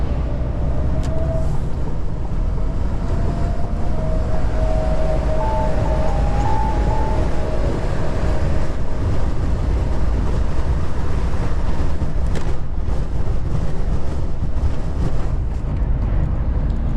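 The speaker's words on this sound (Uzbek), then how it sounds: "Sababi shamol jonli bo'lib turibdi." Strong wind roars steadily into the microphone while a truck is driven, a constant heavy rushing with a low engine rumble underneath throughout.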